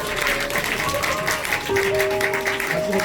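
Audience applause at the opening of an arts festival in Gangneung, a steady wash of clapping throughout with background music tones running underneath.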